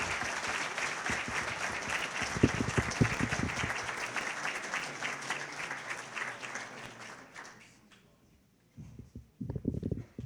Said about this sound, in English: let's give a tremendous hand of applause to a gentleman who's come a very long way